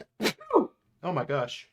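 A sharp sneeze bursts out close to the mic, followed by a short gasping breath, then a voice speaks briefly afterward.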